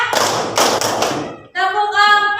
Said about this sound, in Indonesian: Ibu kasih tepuk dulu. Tepuk 1, tepuk 2, tepuk 3,